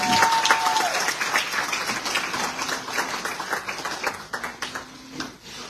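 Audience applause at a book launch for a book about Dominica, steady clapping from a room of listeners lasting several seconds with some faint voices mixed in.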